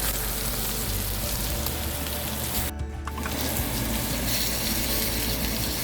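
A ribeye steak sears in a hot pan with a loud, continuous sizzle that briefly dips for a moment before resuming at full strength.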